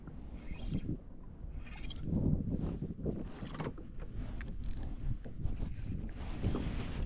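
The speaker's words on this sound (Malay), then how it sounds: "Angin ni aku rasa ni." Wind gusts across open water while kayak fishing, a rough, fluctuating rush over the microphone, with faint splashes and no speech.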